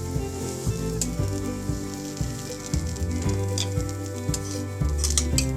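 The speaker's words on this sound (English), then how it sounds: "So let me flip over the side." A spinach and paneer paratha sizzles on a hot pan after being flipped, a continuous close fry with occasional scrapes and taps of a utensil, while music plays throughout.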